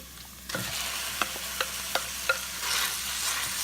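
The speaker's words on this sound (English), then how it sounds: "Now I'm just gonna add my meat" Meat sizzling as it browns with chopped red onion in an Instant Pot, a steady close frying hiss broken by a few sharp clicks of a utensil stirring and breaking it up.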